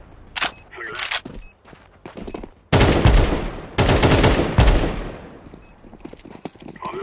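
Loud bursts of automatic gunfire in Counter-Strike 2 on the Dust 2 map, with two long rattling volleys and scattered single shots and clicks between them, close and sharp.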